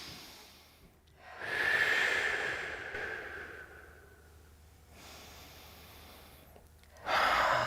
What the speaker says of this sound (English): Let's take some big breaths in and out here.